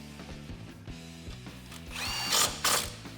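A hand ratchet tightens bolts during a 2.5-inch front leveling kit install on a 2015-2019 Ford F-150, producing fast, close clicking with a rhythmic pulse and a couple of louder rasping bursts near the end.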